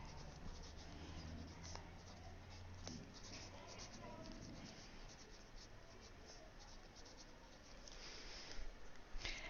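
A pen writing a page title in a journal, with steady scratchy strokes close by that continue over a low hum, and some light tapping near the end.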